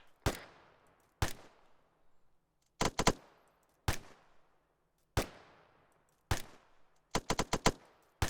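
A DMR marksman rifle in a video game fires at range: sharp, loud single shots with decaying echoes, some spaced a second apart and others in quick doubles and a rapid four-shot burst, with no talk.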